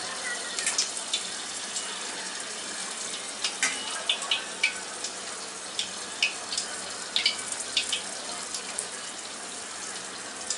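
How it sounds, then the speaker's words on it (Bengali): Coriander leaf pakoras, Bangladeshi style, frying in hot oil, giving a steady close bubbling sizzle with scattered crackling pops throughout. "এরকম করে সবগুলাকে ভেজে নিতে হবে"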